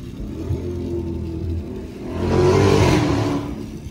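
Exhaust from a wrecked SRT 392 with a mid-muffler delete, driving late at night near an underpass: a deep, steady drone swells into a louder rev midway, then eases back, with no voices.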